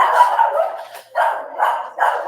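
A puppy barks indoors at someone at the front door, four loud close yapping bursts in quick succession with no talk.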